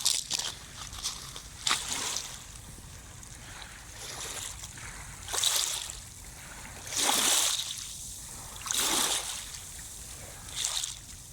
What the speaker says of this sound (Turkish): Şöyle bir dalgaların sesini dinleyelim.